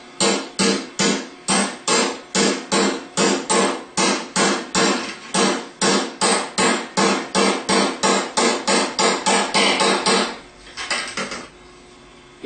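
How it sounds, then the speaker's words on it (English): A new bearing is tapped on its outer race into the front plate of a Bosch alternator: about thirty sharp, evenly spaced metallic hammer blows, loud and close, then a few softer knocks. "When you go to put the bearing back in, tap only on the outer race."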